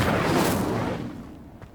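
The Incendio fire spell in Hogwarts Legacy lets out a single loud, rushing burst that fades away over about a second, with no talking.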